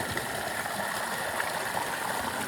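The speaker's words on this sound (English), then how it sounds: "Another river crossing." Mountain stream rushing steadily at a hiking trail river crossing in the White Mountains, a dense, loud, continuous wash of flowing water with no voices.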